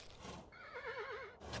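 A horse in the video game Kingdom gives a single short, close whinny with a wavering, quivering pitch, lasting about a second, framed by faint game ambience.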